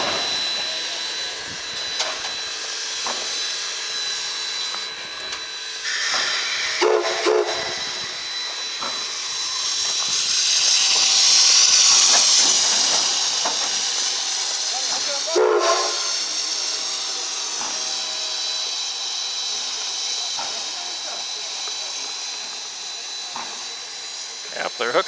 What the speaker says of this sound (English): Now she's coupling to the train.